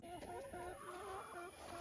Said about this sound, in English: go outside with my grandbabies and collect some eggs from the chickens